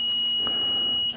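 A Bluetti AC300 power station with a B300K battery sounds a steady, piercing electronic error tone for over a second. It signals a multi-phase integration or communication fault and cuts off abruptly at the end, with no voices.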